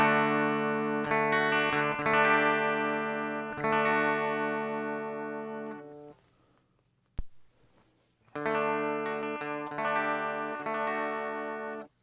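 Electric guitar through a Marshall MGP9004 preamp on the lead channel at low gain: rich sustained chords and strummed notes, mostly clean with mild grit, then a pause with a click and a fresh chord phrase.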